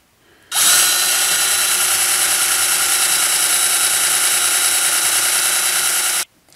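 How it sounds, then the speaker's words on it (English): A power drill bores holes through an old metal cake pan, starting abruptly and running as one continuous loud high-pitched whine for about six seconds before cutting off. "I drill my holes this way so I don't drill my"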